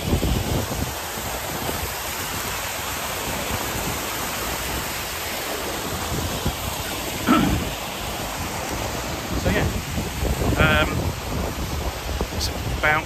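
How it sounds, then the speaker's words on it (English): Constant rushing water from a small waterfall on the Cornwall coastal path between Zennor and Cape Cornwall, loud and close, with brief gusts and faint voices at times. "Beautiful little waterfall there."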